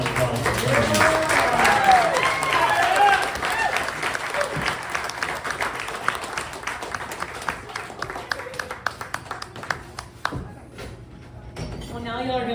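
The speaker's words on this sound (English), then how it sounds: "let's give a huge round of applause for her" Live concert audience in Canton, Texas breaking into loud applause and cheers, dense clapping that gradually thins and fades over several seconds, with a voice talking over it.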